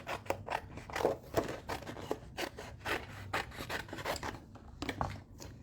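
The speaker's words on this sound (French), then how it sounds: "je vais le couper au ciseau." Scissors cut through paper card up close, a quick series of quiet snipping and rasping strokes in an irregular rhythm with no talk.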